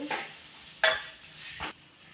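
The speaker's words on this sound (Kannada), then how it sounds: "ಇದು ಕೂಡ ತುಪ್ಪದಲ್ಲಿನೇ ಫ್ರೈನ ಮಾಡ್ಕೋಬೇಕು" Grated coconut frying in ghee is stirred in three short scraping strokes, each a brief soft burst separated by near silence.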